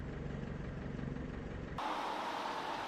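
Caterham Super Seven engine idling with a rich carburettor mixture, a steady low rumble that holds even and continuous before the tone shifts and brightens partway through.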